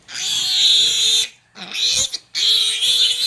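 Piglets squeal noisily up close in long, shrill bursts broken by a brief pause, loud and piercing, with grunting mixed in between the squeals.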